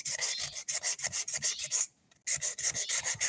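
Rhythmic back-and-forth rasping of hand block-sanding gelcoat on a Key West 21 center console boat, close and brisk, with a brief pause before the strokes resume.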